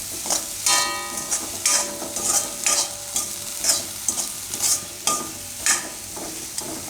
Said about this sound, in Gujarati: એને મિક્સ કરી નાખીશું.